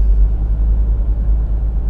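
A BMW on active cruise control with stop-and-go pulls away again, its cabin filled with a steady low engine and road rumble, no voices.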